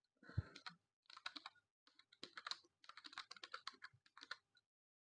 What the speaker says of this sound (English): I'm using a terrible keyboard.